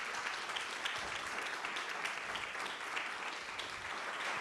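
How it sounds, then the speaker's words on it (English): A school audience gives a steady, sustained round of applause for a student named Davon, a dense even roar of many clapping hands throughout with no pause. "Give my man Davon a round of applause"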